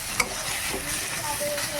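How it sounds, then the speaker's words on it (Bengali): Food frying in a pan with turmeric and a pinch of sugar is stirred, giving a steady close sizzle throughout with a brief scrape of the utensil near the start. "পরিমাণ মতন হলুদ দিচ্ছি, হালকা কয়েক দানা চিনি দিয়ে দিলাম, নাড়াচাড়া করে নামাবো।"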